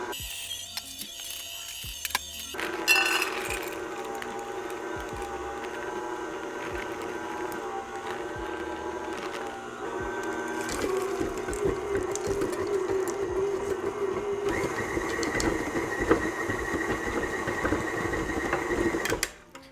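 An electric stand mixer churns thick, sticky chocolate chip cookie dough, a close whirring motor hum starting on the stir setting and then stepping up in pitch and loudness as the speed is raised, running steadily without speech.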